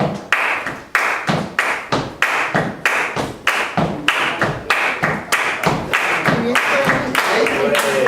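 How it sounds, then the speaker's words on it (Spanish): Flamenco palmas from a group clapping in Jerez style while walking, with sharp, loud claps in a steady, even beat of about two per second, plus soft footfalls and some voices toward the end. "van tocando las palmas y caminando."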